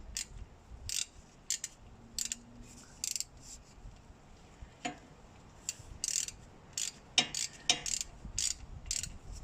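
A ratchet tool tightening a differential plug on a Jeep Wrangler during a gear oil change, heard as close, crisp clicking in short irregular bursts with brief pauses between them.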